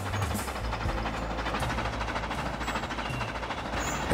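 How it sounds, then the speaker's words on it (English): A diesel locomotive in Trainz Railroad Simulator drones steadily with a low rumble and faint rhythmic rail clatter, continuous and fairly close, with no voices. "we've actually now got one diesel running up and down as well"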